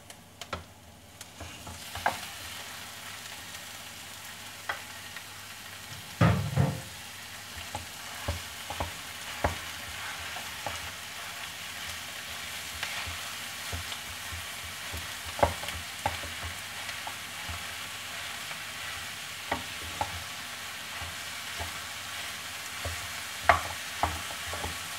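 Minced meat and onion being sautéed in a pan for Shanghai spring rolls, with a soft, steady sizzle punctuated by scattered spatula clicks and scrapes, close by and with no talking.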